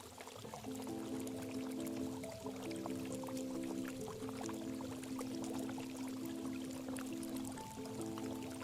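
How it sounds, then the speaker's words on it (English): Fresh water runs steadily through narrow rock channels and small pools in Wadi Tiwi, Oman, a soft continuous trickle and splash heard alone, with a low steady hum beneath it. "Fresh water from the plateau flows downward through narrow channels, forming small pools and smooth rock surfaces"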